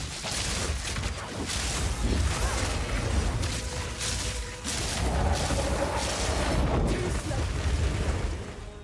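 Boss mortar barrage in Path of Exile 2, dense rumbling booms and bursting explosions layered continuously, loud and close, with a voice talking over the action.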